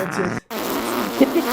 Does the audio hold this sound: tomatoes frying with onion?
no